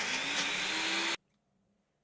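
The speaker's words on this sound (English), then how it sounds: "He brings in the blender, but well, he has to plug it in" A kitchen blender whirs loudly at a steady high pitch for about a second, cuts off abruptly into near silence, then briefly starts up again at the end.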